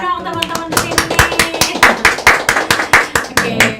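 An audience at a small cooperative and small-business gathering claps together in a fast, steady rhythm, close and loud, with a voice briefly audible among the claps.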